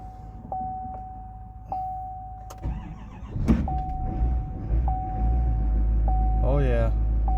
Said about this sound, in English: I'm going to do a cold start on this 2023 Chevy 4500 dump truck.